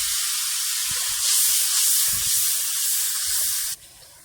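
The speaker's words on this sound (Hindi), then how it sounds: "इसी ऑयल में मीडियम साइज का प्याज डालेंगे।" Onion paste frying in oil for aloo baingan curry, a steady close sizzling hiss that swells slightly midway, with faint low knocks underneath, before dropping away near the end.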